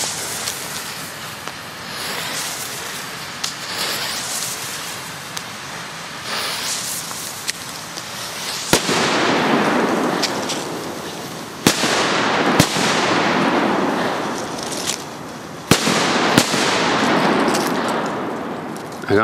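Belgian P1-category Scorpio firecrackers set off outdoors: a string of sharp, loud bangs, each followed by a crackling, sizzling tail, with the blasts coming closer together and heavier in the second half.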